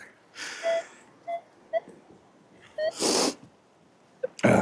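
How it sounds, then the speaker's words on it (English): Several short, sharp nasal sniffs and snorts come close up at irregular intervals, with quiet gaps between them, outdoors in cold, windy weather. "Sorry I'm sniffling, guys."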